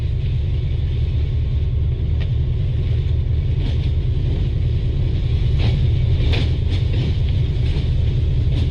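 A train runs through the long Khojak tunnel, a dense, steady rumble with a heavy low roar and rattling wheel noise that stays loud and continuous throughout, with no voices.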